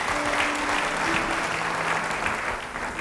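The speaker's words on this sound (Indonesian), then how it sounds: "Beri tepuk tangan bagi dia." Steady applause from a church audience fills the clip, a dense wash of clapping hands that carries on evenly throughout.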